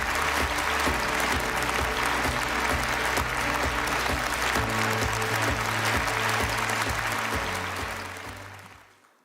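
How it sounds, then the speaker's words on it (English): Sustained audience applause at a conference opening ceremony welcomes the Prime Minister's representative, a dense steady wash of clapping with low music tones underneath that fades out over the final second. "Would you please welcome him with a big round of applause?"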